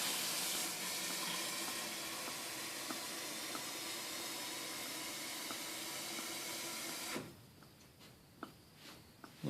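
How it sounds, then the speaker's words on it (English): Hot water pours steadily for water kefir, making a continuous hissing, splashing stream for about seven seconds before it stops, followed by quieter drips and small clinks. "Just some hot, warm water."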